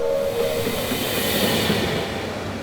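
Train running along the track, a steady loud hiss and rolling rumble with a brief whistle-like tone at the start, continuous and close.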